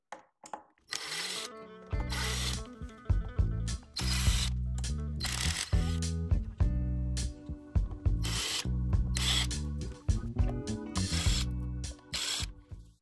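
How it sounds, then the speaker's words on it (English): A hex driver ratchets out 3 mm hex screws from the saddle of an InMotion V11 electric unicycle, with repeated clicking bursts and short pauses, close and fairly loud. "there are these two 3 millimeter hex screws on both sides, so it's 4 in total, that we're going to remove to start."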